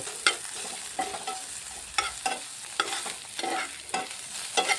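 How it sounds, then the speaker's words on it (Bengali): Steady sizzling of onion, ginger-garlic paste and spices frying in hot oil, with repeated scraping strokes of a spoon stirring the pan at a regular rhythm, close up and no talking. "সব উপকরণগুলোকে দিয়ে 2 মিনিট আমি একটু ভেজে নেব।"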